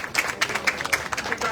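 A brief burst of scattered audience clapping at a community event in Miami, fairly soft and lasting just over a second.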